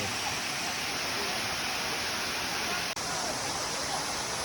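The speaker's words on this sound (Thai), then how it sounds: "ถึงแล้วนะครับ น้ำตกสลัดได้" Salad Dai waterfall in Thailand pours with a constant broadband rush of falling water, loud and unbroken, a dense steady roar with no distinct splashes standing out.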